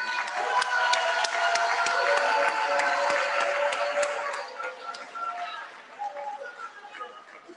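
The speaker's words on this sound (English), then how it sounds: "I ask that we give her another round of applause." Audience applause fills the opening ceremony of the new Freetown City Hall, a dense, steady wash of clapping that holds loud for several seconds and then gradually thins out, with some voices mixed in.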